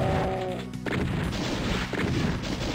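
Shotgun blasts fired at Barons of Hell in Doom 2, a dense loud burst of game gunfire and booming impacts filling the whole moment with no talking.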